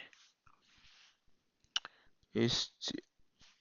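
Computer keyboard keys, Shift then Enter, are pressed in a few sharp clicks with some quieter taps between, close and fairly clear against a quiet room.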